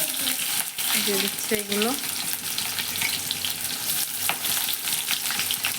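Onion, ginger and garlic sizzling steadily in a pan for ghugni, a loud continuous frying hiss with stirring scrapes and a few brief clunks, while someone talks briefly near the start.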